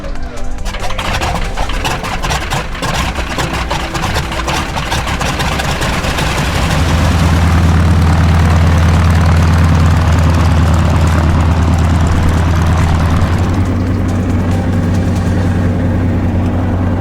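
Cessna propeller airplane engine idling before takeoff at a fly-in at an aerodrome, a steady loud low drone that swells and holds strong in the second half, with crowd and wind noise around it.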